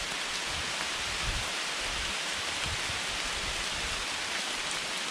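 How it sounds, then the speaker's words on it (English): Torrential rain pours through leaves and trees in woods at night, a dense, unbroken hiss of heavy downpour with scattered low patters of drops, loud and continuous with no voices. "We're in the middle of a torrential downpour. It's getting through the leaves and the trees and everything."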